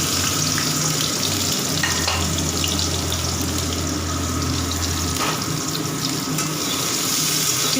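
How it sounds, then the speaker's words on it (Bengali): Onions frying in white cooking oil for beresta give a steady, close hiss, broad and constant from start to finish and carrying no voices. "পেঁয়াজগুলো আমি বেরেস্তা করবার জন্য দিয়ে দেবো। আগে লাল করে এটা ভেজে নেব"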